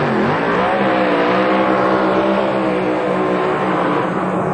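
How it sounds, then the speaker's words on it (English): A drag racing car with a new Whipple blower doing a burnout at the 1997 NHRA Pennzoil Nationals, a loud steady engine roar and tire noise sustained close by throughout. "Beautiful burnout."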